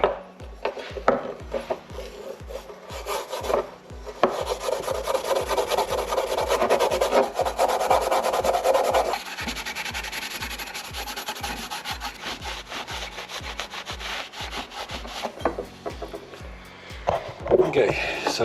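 Steady back-and-forth scrubbing of a rusty part from a 2005 Triumph Bonneville under restoration with an abrasive Scotch-Brite pad: close, rasping strokes in a continuous rhythm, briefly easing off near the end, with occasional voice in the background.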